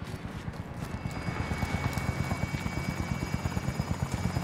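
A helicopter in the video game Call of Duty: Warzone thumps with a rapid, steady rotor pulse that holds loud and close throughout, with no talking.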